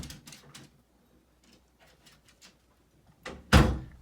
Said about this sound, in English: Just quickly open the door.